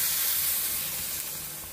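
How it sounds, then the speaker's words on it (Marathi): Ground masala water hitting a hot pan for prawn curry, giving a steady loud hiss and sizzle that eases slightly as it continues, with no voices. "आता आपण जे वाटप केलं त्यातलं हे पाणी टाकूया"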